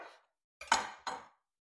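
A knife cuts the top off an eggplant on a board, giving a short crisp scrape followed by two firm cutting strokes with brief gaps, close and clear against silence.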